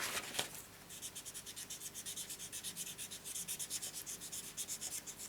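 Paper piece being rubbed to clean off stamping ink, giving a quiet, steady rhythmic scratching, a fast run of short back-and-forth strokes up close, with no talk.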